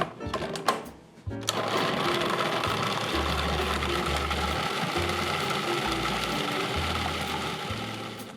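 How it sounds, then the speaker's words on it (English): A food processor chops dates in loud, pulsing bursts of whirring motor and rattling blade, each burst a second or so long with brief gaps, after a moment of handling noise at the start. "put them in the food processor"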